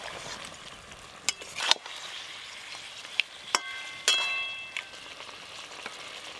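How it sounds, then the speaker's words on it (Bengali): Fried bhetki fish bones go into a bubbling fish curry. A soft, steady sizzle is broken by scattered sharp clinks and scrapes of stirring, and no one speaks. "এবার ভেজে রাখা কাঁটাগুলো দিয়ে দেবো।"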